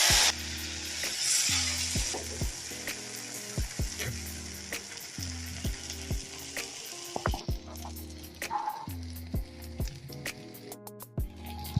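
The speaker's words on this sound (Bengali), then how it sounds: "ভেজে নেব" Pointed gourd sizzles steadily in hot oil in a wok, with repeated scraping taps from stirring throughout and no voices.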